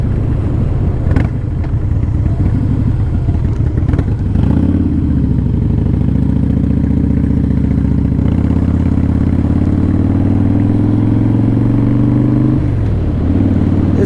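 A Harley-Davidson CVO Pro Street Breakout motorcycle with about 5,300 miles runs close by, its V-twin engine rumbling loudly through the exhaust. The low throbbing idle rises into sustained revving, drops, and revs again.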